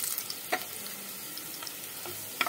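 Onions brown in a pan with spices for a potato and eggplant curry, giving a steady soft sizzle with a few brief stirring scrapes, quiet and close with no talk.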